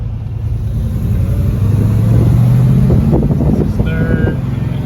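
A 1970 Chevrolet Chevelle engine drones steadily from inside the car while driving and shifting gears, a loud low rumble that rises briefly in pitch as it revs, with wind noise throughout.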